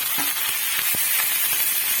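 Ginger, garlic and chili hitting hot oil with cumin and curry leaves for dal fry, giving a steady close sizzle and crackle with a few sharp pops, with no talk.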